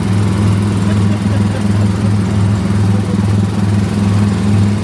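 Small ride-vehicle engines at Disneyland Paris drone steadily and close by, sounding like lawn mower motors. The buzzing hum stays continuous, with faint voices in the background.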